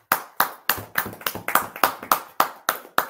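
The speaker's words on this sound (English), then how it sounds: "Everybody clap in the choir." A church choir claps hands together in unison, about eleven sharp, evenly spaced claps at a brisk steady beat, close and fairly loud with no talking.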